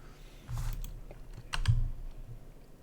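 A handful of quick keystrokes on a computer keyboard as an exact number is typed in, in two short bursts of clicks with a pause between them, close and fairly quiet.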